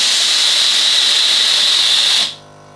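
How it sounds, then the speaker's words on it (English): A Tefal Pro Express Protect GV9230 high-pressure steam generator iron releases a loud, steady hiss of steam for just over two seconds, then cuts off abruptly into quiet. "because the steam that comes out of this"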